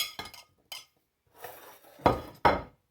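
Chopped onion is dropped into a small metal pan with a few light clinks and scrapes, ending in two louder metallic knocks, close and without speech.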